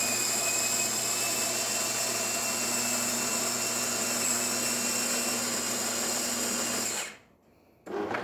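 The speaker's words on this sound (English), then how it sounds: "So starting with one shot of espresso, we're gonna test it out." A Jura coffee machine brews a shot of espresso with a loud, steady pump drone and high whine that runs unbroken for about seven seconds, then cuts off abruptly, followed by a brief short sound.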